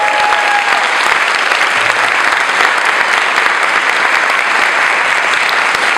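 An audience bursts into sustained, dense applause at a youth event honoring the Hetrick-Martin Institute, loud and continuous clapping filling the room without a break.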